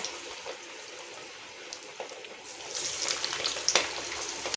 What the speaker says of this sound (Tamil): ஸ்டவ் மீடியம் ஃப்ளேமுக்கு மாற்றிட்டு வடையை பொரிச்சிக்கலாம்.